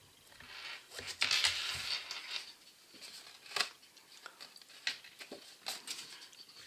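Scissors cutting through photo card, soft snipping and rustling with irregular crisp cuts, faint and close, no talking.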